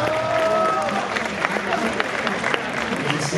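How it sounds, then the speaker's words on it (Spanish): An audience applauding at a live comedy show in Mérida, Yucatán, with a steady wash of clapping and crowd noise for a few seconds while people talk over it. "Muy bien, un gran aplauso."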